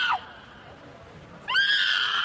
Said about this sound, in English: Hello, these screaming people.